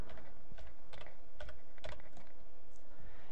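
Someone types on a computer keyboard, entering a file name, with a few quick close keystroke clusters over a steady background hiss.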